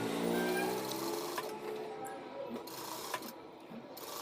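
A sewing machine stitches a men's kurta with a front fold, running in a steady mechanical whir with small pauses and clicks, close and moderately loud throughout.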